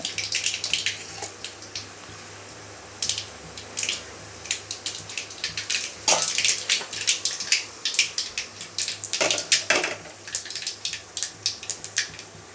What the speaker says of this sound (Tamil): கடுகு போட்டுக்கோங்க